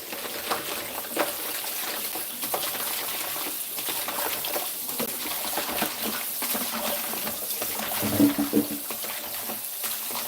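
Tap water runs steadily over leaves being washed in a strainer, a close, continuous splashing rush with small clinks and a brief louder burst near the end.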